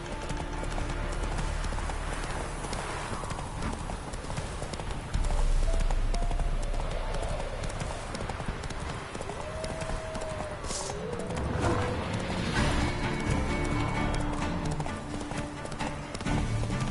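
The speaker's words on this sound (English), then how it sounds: "Run, Roach" Hooves clip-clop steadily as a horse gallops in The Witcher 3, a game soundtrack with whinny-like tones layered over the continuous rhythmic pounding, fairly loud throughout.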